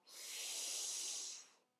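A single long, breathy inhale, steady and close, lasting under two seconds and fading out at the end, with no talking.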